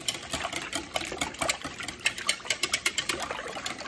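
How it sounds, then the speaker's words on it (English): Eggs, milk and salt whisked together in a bowl for bread dumplings, a steady run of quick, close scraping and clicking strokes with no pause. "we're going to whisk this together"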